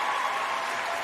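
Studio audience applause as a short sound bite, a dense steady wash of many hands clapping at once, loud and continuous for about a second with no voices.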